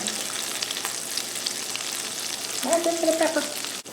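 A single egg frying in a pan, with a constant close sizzle and a brief stirring or tool sound near the end.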